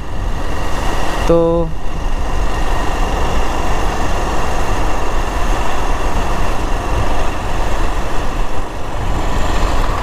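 A motorcycle with its accelerator locked runs on its own, giving a steady, loud engine drone with a brief tonal beep near the start and a voice speaking briefly over it.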